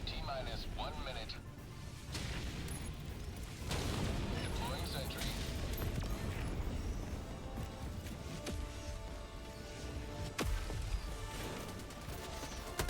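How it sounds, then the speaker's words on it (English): Heavy orbital barrage explosions in a video game boom and crash repeatedly over a dense, continuous din, with sharp impacts near 4 and 10 seconds, while a voice speaks briefly over the barrage. "I love the orbital barrage."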